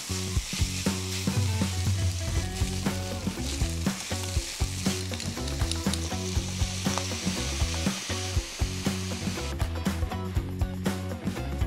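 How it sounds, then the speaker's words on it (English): Pork mince stir-frying in a hot pan, a loud continuous sizzle over rapid, rhythmic clatter and scraping as the meat is broken apart, steady and close throughout. "You're gonna break up the pork as much as you can so that the mince is separated."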